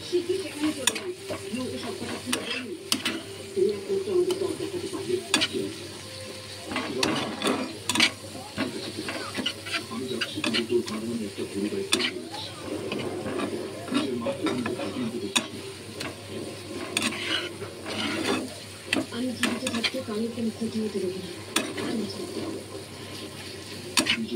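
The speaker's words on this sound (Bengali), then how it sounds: "এবার লঙ্কার গুঁড়ো দিয়ে দিলাম। এটাকে ভালো করে মিশিয়ে নিতে হবে।" Crab coated in chili powder is stirred in a frying pan, a constant close sizzle with repeated scraping and clattering of the spatula against the pan throughout.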